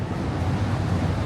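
Wind blows and rushes against a window in Hong Kong on a rainy day, making a steady, broadband whoosh that continues without pause throughout.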